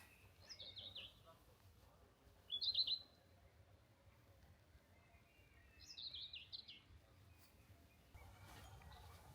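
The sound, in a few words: birds chirping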